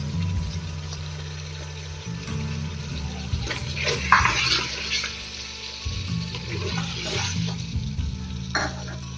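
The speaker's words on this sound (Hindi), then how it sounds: "यहाँ पर जो प्याज मैंने ब्राउन किए थे उनका पेस्ट बना लिया है, तो ये मैं इसमें ऐड कर दूंगी।" Browned onion paste goes into a beef karahi frying in the pan, giving a steady loud sizzle with low rumbling and a few scraping bursts, no talking.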